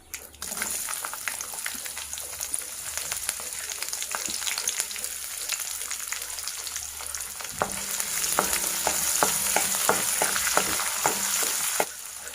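Chopped onion with dried and green chillies frying in a pan for a plantain stir fry, a close sizzle under sharp clinks from stirring that grows louder and brighter in its second half.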